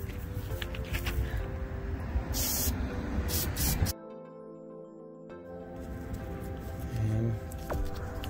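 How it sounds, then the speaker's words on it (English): Brake cleaner sprays onto a car's front brake during a pad replacement, with a few loud, close hissing bursts, a pause, and then quieter handling noises. "Using a brake cleaner."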